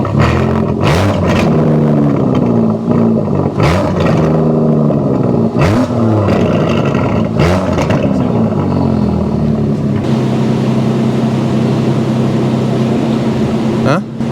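An Aston Martin DB11 V12 accelerates through Paris streets, loud engine rising and falling through repeated gear changes, then settling to a steady drone, with a voice briefly audible over it.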